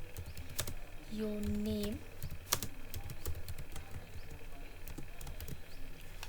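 Quick, uneven clicks from a computer keyboard, typed in short bursts, sound close and quiet beneath someone speaking softly; a brief tonal beep sounds early on.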